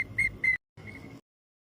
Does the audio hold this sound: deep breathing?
no